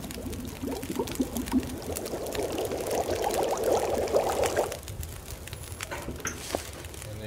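Water for tomato soup pours and bubbles steadily for several seconds in the video game The Long Dark, loud and close, then fades into small clinks and faint rustling.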